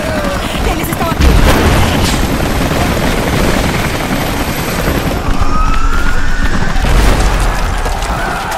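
Helicopters arrive in the video game Rise of the Tomb Raider, a loud, continuous rotor roar mixed with rumbling booms and wailing tones throughout.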